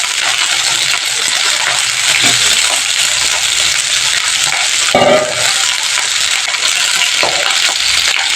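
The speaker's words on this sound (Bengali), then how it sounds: "এবার আমি ফুলকপিগুলো এক এক করে তেলের মধ্যে দিয়ে ভেজে নেব।" Cauliflower florets frying in hot oil for a home-cooked cauliflower curry, a loud, dense, steady sizzle with a sharp burst as pieces are dropped in and occasional stirring, close by with no voices.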